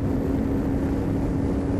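Inside a Sbarro Turbo S 20 driven on a circuit, the engine holds a loud, steady low drone with a sustained tonal hum, continuous from start to end with no break.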